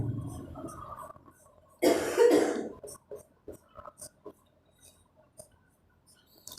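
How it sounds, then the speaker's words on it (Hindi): A sick student coughs in a classroom, with one loud harsh burst of coughing followed by quieter scattered sounds and small taps. "आज हमारे एक स्टूडेंट की तबीयत थोड़ा सा गड़बड़ है, बार बार खांसी आ रही है"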